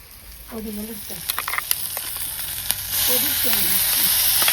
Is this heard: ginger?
yes